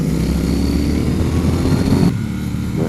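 A 2019 Triumph Speed Twin 1200 motorcycle engine roars loud and close under hard riding, a steady throbbing drone that drops in tone briefly near the end.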